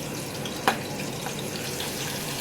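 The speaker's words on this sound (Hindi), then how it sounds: "ये देखिए ज़बरदस्त फ्राई हो रही है" Kalonji seeds and curry leaves fry in hot oil, giving a continuous close sizzle and crackle with one sharp pop partway through.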